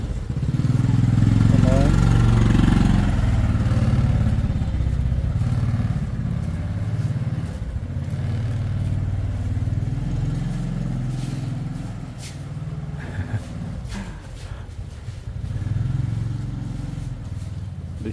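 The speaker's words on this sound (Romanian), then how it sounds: "Hai că vin scuterelele." Motor scooters pass along a narrow Hanoi street, their engines buzzing loud and close in a continuous rolling drone that swells and fades as they go by, with voices talking over them.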